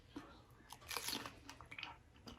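Someone biting into crunchy fried fish rolled taquitos, a few close crisp crunches and chewing sounds, fairly faint with no talking.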